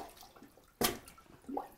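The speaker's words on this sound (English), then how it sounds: "I'm going to give it a couple pushes and you're going to see water squirting out." A plunger pushes into water in a clogged toilet, giving one sharp splashing gush near the middle and a smaller slosh toward the end, close by and fairly faint.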